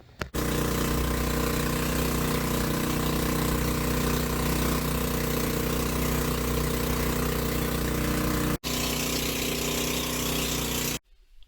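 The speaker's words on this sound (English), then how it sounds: "take the motorized boat to the entrance of the underground river" A motorized tourist boat engine runs steadily near Puerto Princesa, a loud, constant droning hum heard close up that starts abruptly, holds for about ten seconds with one brief break, then cuts off.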